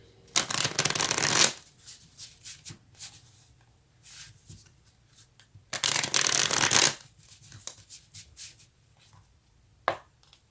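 Tarot cards are shuffled by hand in two loud riffling bursts, separated by softer taps, slides and handling sounds of the deck, close up and without speech.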